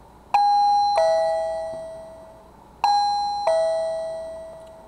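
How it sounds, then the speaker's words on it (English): A SECRUI wireless doorbell chime plays a two-tone ding-dong twice, each bright note ringing out and decaying slowly, the pair repeated after a short gap, with no talking. "So you can put one on your front door and one on your back door, they're the same chimes."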